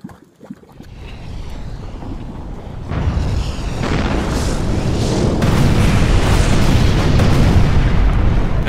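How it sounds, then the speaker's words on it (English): A volcanic magma pond churns with a low roar that swells from quiet into a loud, dense bubbling rumble, building steadily over several seconds without any talk. "Or typical volcano sounds like this magma pond."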